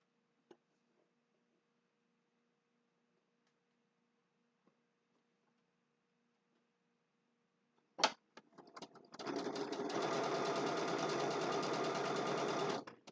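Near-silence with a few faint clicks gives way to a sewing machine stitching a Christmas table runner block: a sharp start, brief stutters, then a steady, fast, close whirring run.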